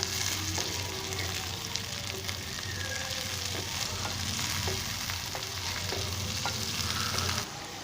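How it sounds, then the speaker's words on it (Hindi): Okra (bhindi) fries in a pan for a beef dish, giving a steady, dense sizzle of hot oil close by, with occasional stirring clicks and scrapes and no talk. "अभी इनको मैं अच्छे से फ्राई कर लेता हूँ गोल्डन सुनहरा होने तक।"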